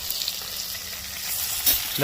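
Pumpkin, vegetable stalks and other vegetables frying in oil for Bengali shukto: a close, steady sizzle and crackle, with a soft knock near the end.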